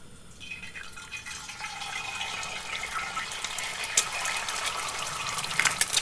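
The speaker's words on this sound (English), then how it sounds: "see if I can fry an egg. This seems pretty hot. Let's put some oil. And let's fry." An egg goes into hot oil in a pan and starts frying, a rising crackling hiss with sharp spitting pops that grows louder and busier toward the end.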